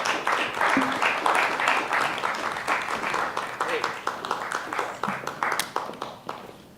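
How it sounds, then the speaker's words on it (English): Audience applause for candidates at a chamber of commerce political forum: moderate clapping that thins into scattered individual claps toward the end, with some talk mixed in. "give them a round of applause."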